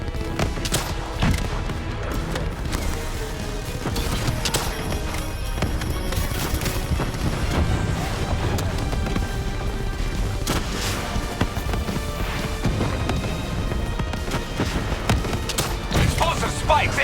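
Gunfire in Call of Duty Black Ops 3 during a mission firefight: dense, continuous volleys of shots and explosive booms, with voices calling out over the battle.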